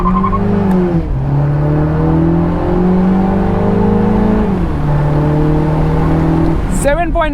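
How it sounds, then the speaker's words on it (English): A Mini JCW with a dual-clutch gearbox revs loudly and close, its engine note stepping down through aggressive downshifts before ending in a burst of rattly exhaust crackles and pops; a voice talks over it. "Look at the downshift, super aggressive because dual clutch."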